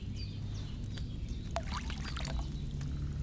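Wine pours into a cauldron in Kingdom Come: Deliverance II, a continuous low liquid gurgle with faint game ambience and chirps over it.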